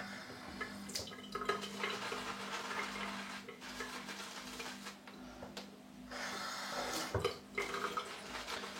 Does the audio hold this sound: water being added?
yes